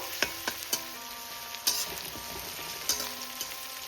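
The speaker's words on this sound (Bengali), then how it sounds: "এবার আমি দিয়ে দিচ্ছি এর মধ্যে রসুন আর কাঁচা লঙ্কা কুচি। একটু সামান্য ভেজে নেব।" Chopped garlic and green chilies fry in a pan for a drumstick-flower chorchori, a soft steady sizzle broken by several sharp spatula clicks and scrapes against the pan, close and fairly quiet with no speech.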